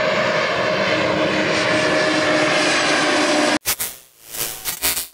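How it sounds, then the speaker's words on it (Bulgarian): Airliner on the Sofia–Munich flight accelerating down the runway for takeoff, a loud steady engine roar heard from inside the cabin that cuts off abruptly into quieter rustling. "в момента самолета набира скорост, за да може да излетим"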